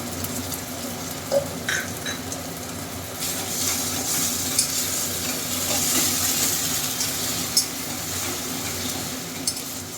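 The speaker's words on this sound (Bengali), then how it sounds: "পেঁয়াজটা লাল লাল করে ভাজা হয়ে গেছে এবার আমি এর মধ্যেই পেস্টটা দিচ্ছি" Spice paste fries in oil with browned onions for a young jackfruit and prawn curry, a steady sizzling hiss broken by occasional stirring scrapes and a few louder clinks, close by with no talking.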